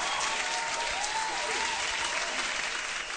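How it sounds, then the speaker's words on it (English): Steady, dense hand-clapping applause from an audience welcoming a guest named Nikia on a show, loud and continuous for a few seconds with no talk over it. "Get a hand clap for Nikia."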